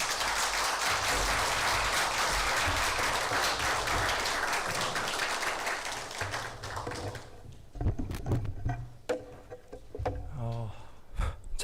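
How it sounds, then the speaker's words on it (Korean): Applause from a university chapel congregation welcoming a pastor to the pulpit, a dense wash of many hands for about seven seconds before thinning to scattered claps and a microphone handled close by. "뜨거운 박수로, 따뜻한 박수로 환영해 주시면 고맙겠습니다."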